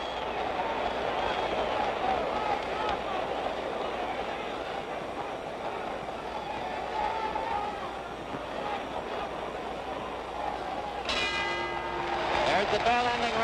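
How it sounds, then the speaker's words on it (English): A boxing ring bell signals the end of round 11 in the Floyd Patterson versus George Chuvalo fight, ringing out near the end over a steady, loud crowd roar. "The bell ending round 11."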